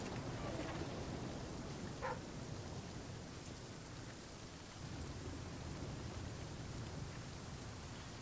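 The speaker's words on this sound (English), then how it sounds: "It's rainy." Steady, loud rain pours in The Flame in the Flood, a dense continuous hiss filling the whole stretch with no voices over it.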